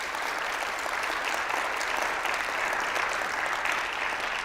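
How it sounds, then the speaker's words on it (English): Steady, dense applause from a large audience in a university hall during a State of the University address, continuous and fairly loud throughout with no distinct voices. "let's have a round of applause"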